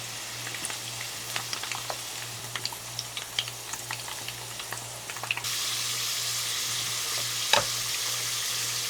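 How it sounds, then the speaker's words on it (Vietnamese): Potatoes frying in about a third of a bowl of oil in a pan, a continuous crackling sizzle with scattered pops, the hiss thickening partway through. "Cho vào chảo khoảng 1/3 chén dầu và mình cho khoai vào chiên."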